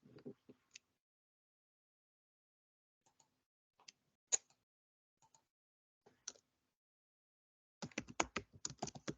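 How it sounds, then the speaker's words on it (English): Faint, sparse clicks of typing on a computer keyboard during a public commissioners' meeting, with scattered single keystrokes and then a quick run of keys near the end, very quiet and distant. "We'll answer your question when you're done typing."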